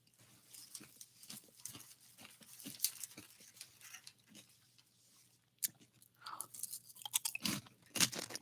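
Crunchy snack food chewed right at the microphone makes loud, close, irregular crunches and bites in bursts, with a quiet pause midway before a louder flurry of crunching.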